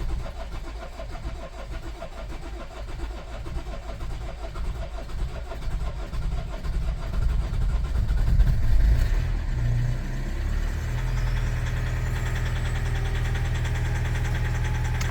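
A third-generation Toyota RAV4 diesel cranks with a rapid rhythmic starter churn, catches, and settles into a loud, low, steady idle close by, noisy and rough-edged, with no talking.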